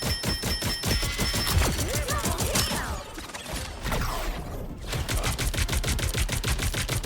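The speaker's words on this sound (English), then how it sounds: "transforming your arms into a demonic rifles to unleash a rain of lead" Demonic rifles in The Hood video game unleash rapid, continuous gunfire, a dense rattling stream of shots that runs nearly the whole time with only a brief lull in the middle.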